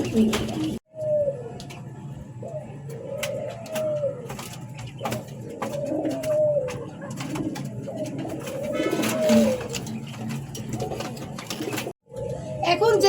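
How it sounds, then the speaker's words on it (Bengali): Pigeons coo repeatedly in low, rolling phrases, several overlapping calls in a steady rhythm, close by, with some voices and clatter in the background. "কবুতরটা দেখাচ্ছি এটার নাম হচ্ছে মিলি"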